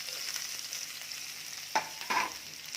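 Chopped onion dropped into hot oil with chili and curry leaves, a steady soft sizzle broken by two sharp bursts of frying, quiet and close with no talk.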